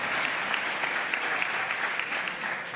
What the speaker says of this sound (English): Now, I know some of you got to clap to this one.